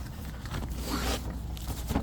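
Fabric carry bag for an EcoFlow Delta 3 1000 Air portable power station being zipped shut, a steady close zipper rasp running the full two seconds with a faint soft bump near the end.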